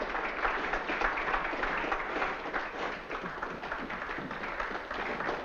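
Steady, dense applause from an audience, continuous crackling clapping that holds at an even level throughout without a break.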